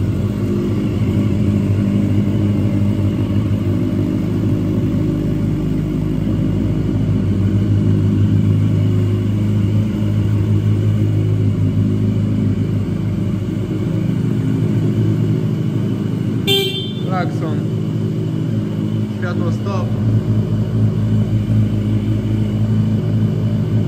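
A 2012 Yamaha FZ8 Fazer ABS 50th Anniversary motorcycle idles steadily, a continuous low engine rumble with a faint high whine and a brief clicking sound partway through.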